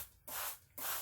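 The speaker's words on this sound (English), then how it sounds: "now I'm going to spray it with vinegar and water" A spray bottle mists vinegar and water onto a bean stain in carpet in two quick, close hissing squirts.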